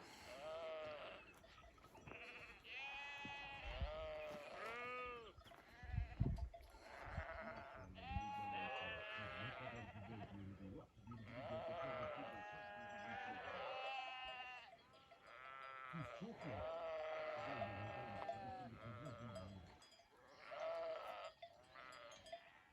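A flock of sheep in the Nurhak mountains of Turkey bleats continuously, many overlapping wavering calls near and far, with no pause across the whole stretch.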